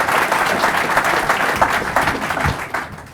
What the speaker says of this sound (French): Je fais un applaudissement.